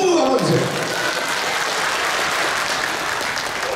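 An audience at a Korean traditional music performance claps in dense applause that swells briefly, then holds at a steady, loud level throughout.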